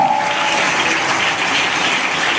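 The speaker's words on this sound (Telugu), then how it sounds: "చప్పట్లు కొట్టండి గట్టిగా" A church congregation claps loudly together at a sermon, a dense continuous wash of applause that stays steady and close for the whole stretch with no voices over it.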